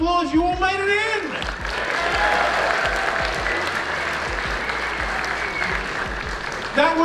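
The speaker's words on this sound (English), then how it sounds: "That was a polite round of applause." Polite round of applause from a convention audience at SMASH 2023, a broad, steady wash of clapping from a large crowd, with a voice talking over it at the start and again at the end.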